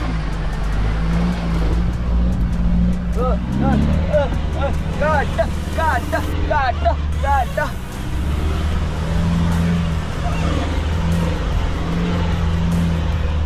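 A Mahindra Thar engine rumbles steadily at low speed off-road over potholes near Mamalakandam, with a low continuous drone and occasional revs, while people talk over it.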